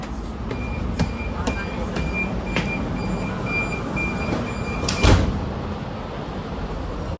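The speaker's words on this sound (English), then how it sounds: "Doors closing. Please stand clear." Sliding doors on an H set commuter train in the new Oscar livery close with a brief thud amid steady carriage rumble and faint chimes, heard up close from inside the car.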